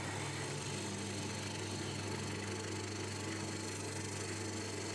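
Wood lathe spinning a bowl blank while a chisel works the surface to round it, producing a faint, steady whirring hum with soft scraping texture throughout.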